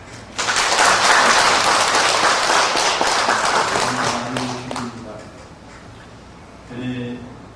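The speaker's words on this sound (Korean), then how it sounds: "우리 하나님께 박수 한번 합시다" A church congregation breaks into loud, dense applause during a Christmas service, sustained for several seconds before fading, then a brief swell returns near the end.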